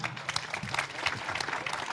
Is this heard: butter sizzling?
no